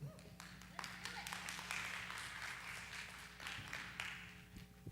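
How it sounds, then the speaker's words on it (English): A church congregation claps, a scattered run of close hand claps over several seconds while a voice speaks over them. "it's okay to clap for it"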